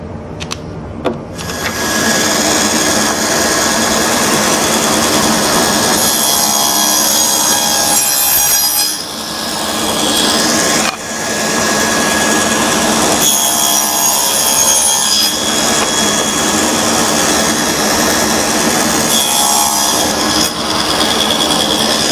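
A power saw cuts a wooden board for a drawer, set against a miter gauge. A loud, continuous whining roar holds for about twenty seconds with a couple of brief dips and no talking.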